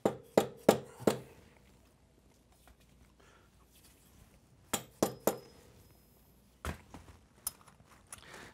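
Sharp metallic taps as a dowel pin is driven into an M8 cam bearing puller to flare its fingers, a quick cluster of four near strikes, then silence, then another group of three and a few softer knocks.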